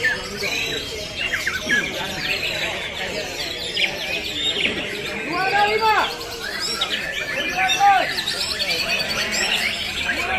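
White-rumped shamas sing at a songbird contest in Banda Aceh, with varied chirps, whistles and squawks layered densely over crowd chatter and voices, fairly loud and close throughout.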